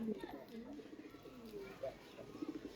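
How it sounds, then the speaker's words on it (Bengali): Silver pigeons coo close by in soft, low, repeated calls, with faint voices in the background. "বর্তমান প্রেক্ষাপটে এইসব কবুতরকে সিলভার কয়"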